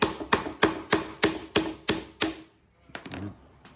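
A screwdriver is struck lightly by a hammer on a guitar ferrule during a Recording King Dirty 30's budget guitar upgrade, giving seven evenly spaced close metallic taps followed by a pause and a few softer knocks.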